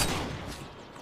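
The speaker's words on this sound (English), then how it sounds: "He fired and it killed me." A short burst of rapid gunfire from Call of Duty: Modern Warfare 2, loud and close at first, then fading quickly.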